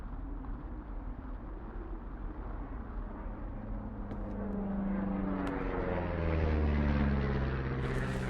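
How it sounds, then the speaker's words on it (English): An airplane flies overhead in the video game Firewatch, a steady propeller-like drone that swells louder toward the end over a quiet outdoor ambience. "That plane?"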